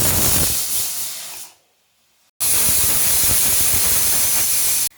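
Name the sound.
pressure cooker whistle releasing steam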